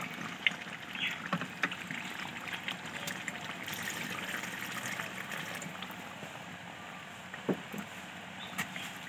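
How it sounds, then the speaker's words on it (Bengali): Water splashes steadily into cooked chicken in a handi pot for dum biryani, a continuous close pouring and bubbling wash with no voices. "এখন সামান্য পরিমাণে জল দিয়ে দেব।"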